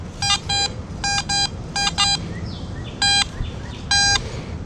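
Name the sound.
metal detector beeping over buried target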